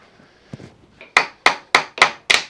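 A drill bit is hammered into a hole, first with a few soft taps, then with five loud, sharp metallic strikes at an even pace, each ringing briefly. No talking.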